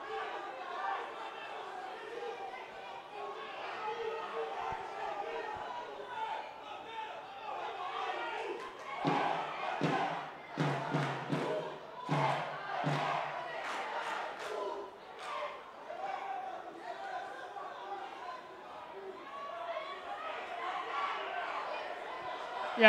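Spectators at a Corinthians versus Palmeiras under-13 football match protest loudly, a dense roar of shouts swelling in the middle under a commentator talking throughout.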